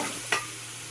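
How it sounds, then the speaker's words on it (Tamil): Chicken sautéing with masala in a pan for pepper chicken, a steady close sizzle broken by one quick scrape of the spoon near the start. "கறி போட்டு நல்லா அந்த மசாலாவோட கொஞ்சம் நல்லா வதக்கி விடுங்க"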